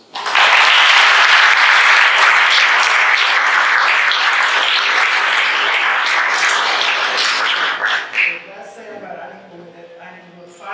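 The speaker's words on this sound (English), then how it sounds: "Big round of applause" Loud, dense audience applause for the guests of a sports-talk panel on parents' role in youth sport, sustained for about eight seconds before fading into scattered claps and a few voices.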